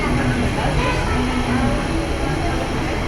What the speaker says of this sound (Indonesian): Itu kayaknya keretanya sudah datang.